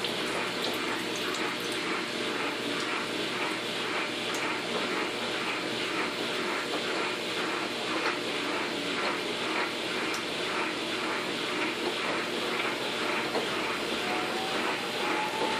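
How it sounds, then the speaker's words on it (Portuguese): Water rushes and splashes steadily as a Mueller washing machine drains, a constant hiss close by with no voices. "Esse ruído é da outra lavadora que está drenando."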